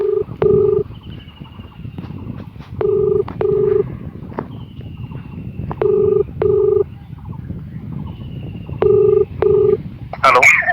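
A telephone being dialed for a prank call: four bursts of paired touch-tone DTMF beeps repeat at steady intervals over a constant low background hum, with a brief sharp click at the very end.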